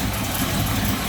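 A 1964 Chevrolet Bel Air with a 350 V8 idles smoothly and steadily nearby, a continuous low engine rumble with no revving.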